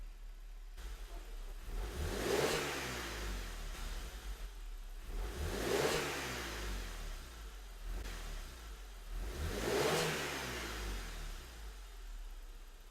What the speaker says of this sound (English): I can now start the engine and snap the throttle.